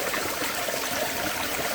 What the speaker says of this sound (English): I could just take a video of me getting the water the first time with my new bladder